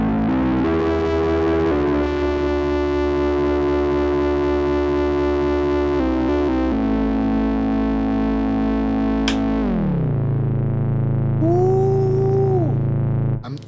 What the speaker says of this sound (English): what if we want to do a little distortion?